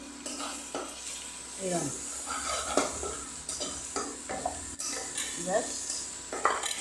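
Meat being sautéed and stirred in a pan, a metal spoon scraping and clinking against the pan over a steady sizzle, with a voice speaking briefly.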